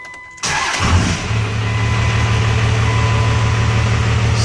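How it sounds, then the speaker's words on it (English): A 1998 Dodge Ram engine cranks briefly and catches, then settles into a loud, steady, rumbling idle inside a warehouse, with no talking over it. "I can go ahead and start it up for you."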